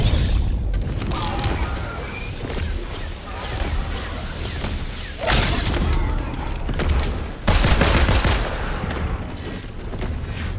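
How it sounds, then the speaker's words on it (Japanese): Explosive Goo Gun blasts in Fortnite: several loud booms and bursts of crackling gunfire strike over continuous game noise, with a voice talking at times. "エクスプローシブグーガン自爆ダメージ入っちまった。"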